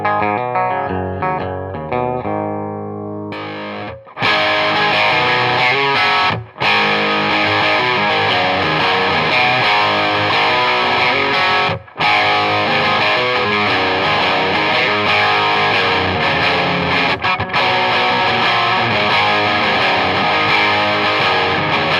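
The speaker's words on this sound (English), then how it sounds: "this pedal can get right through to fuzz territory, but I'm just going to use it as a medium overdrive." Electric guitar run through a big-box pedalboard's overdrive pedal set to medium gain, playing a thin, sparse opening before bursting into loud, dense, sustained distorted chords with a few brief gaps, no talking.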